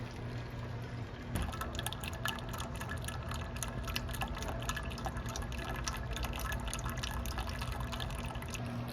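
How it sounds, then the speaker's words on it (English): Finished maple syrup dripping through an elevated filter into a pan, heard as a close, steady patter of drips and trickling liquid that starts suddenly after a quiet opening moment and continues without talk. "So our drip appears to be slowing down just a little bit."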